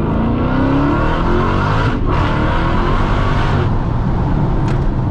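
A Dodge SuperStock Redeye Widebody accelerates hard, its engine a loud continuous roar climbing in pitch, with a quick gear-change dip midway, heard from inside the car.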